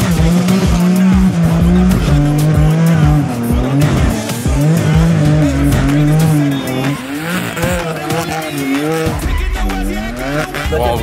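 An old Mercedes G-Class rebuilt as a Brabus drifts hard, its tires squealing in long wavering howls over a loud, straining engine roar, close and continuous, with occasional voices buried beneath.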